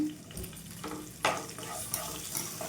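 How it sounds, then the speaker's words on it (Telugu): Dried red chillies and dry coconut fry and get stirred in a pan for a coconut chilli powder, a steady soft sizzle with occasional scraping accents, close and alone. "ఈ మొత్తం కూడా మంచిగా ఫ్రై చేసుకోవాలి ఇందులో ఒక రెండు ఎండుమిర్చి కూడా వేసుకుందామండి"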